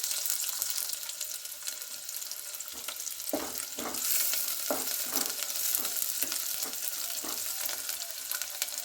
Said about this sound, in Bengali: পেঁয়াজটা আমি হালকা নেড়ে চেড়ে নিলাম।